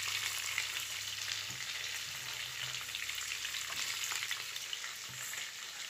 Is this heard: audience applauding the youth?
no